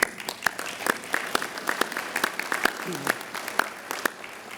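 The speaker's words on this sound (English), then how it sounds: "I'd like to give each of you a round of applause for agreeing to do what you do" Audience at a 2019 summer safety general session applauds steadily, a dense run of hand claps filling the room, with a faint voice underneath.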